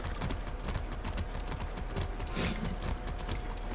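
Rapid, steady clip-clop of horse hooves at a trot in the video game Far Cry 6, with faint mechanical clicking behind it and no voices.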